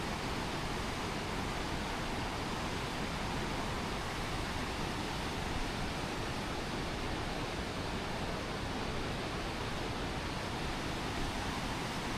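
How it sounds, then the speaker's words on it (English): Rapids on the Wenatchee River roar as a constant, dense rush of water, loud and unbroken throughout with no voices over it. "You look at the power of the rapids, it's just crazy"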